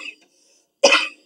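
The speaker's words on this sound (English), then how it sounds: "y'all forgive me if I'm coughing." A single burst of coughing, close and fairly loud, following a brief faint sound and a stretch of near silence.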